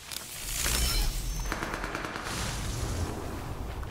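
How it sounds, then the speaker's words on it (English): Gunfire in a Metal Gear Solid Delta: Snake Eater video game trailer: bursts of rapid shots and heavy booming reports crowd together in a loud opening, then a rattling fusillade continues at lower level. "Got some gunshots in the background."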